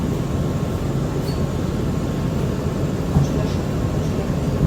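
Manhattan-bound R179 subway train on the F local line rumbling steadily at close range, a continuous low roar of wheels and car noise with faint hiss, no talk over it.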